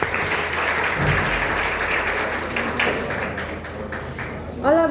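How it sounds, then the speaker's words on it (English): A class of students claps for themselves, a dense, continuous patter of hands at moderate loudness with a brief voice near the end. "Please clap yourself."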